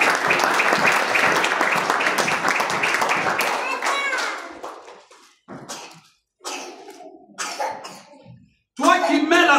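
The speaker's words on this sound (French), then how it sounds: "Est-ce que tu peux acclamer 3 fois le Seigneur?" A church congregation bursts into loud, sustained applause and cheering, then it fades into scattered claps and short bursts of voices separated by brief silences.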